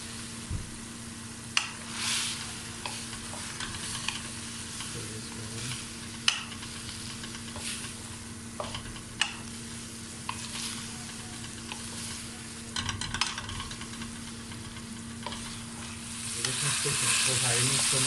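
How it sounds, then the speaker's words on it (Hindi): Chicken frying in a small amount of cooking oil, a continuous crackling sizzle with scattered clinks and scrapes of stirring, growing louder and more intense near the end, with no one talking. "इसके अंदर फ्राई हो गया चिकन"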